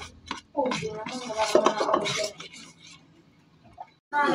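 Pork chop mixture being stirred in a pan with water, utensil scraping and clinking against metal in short bursts, someone talking over it.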